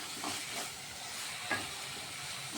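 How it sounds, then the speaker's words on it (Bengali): Jackfruit and prawn masala being stir-fried in a pan, a soft steady sizzle and hiss with a few faint scraping strokes, quiet and without talk. "এগুলোকে আমি এখন ভালোভাবে কষিয়ে নেব"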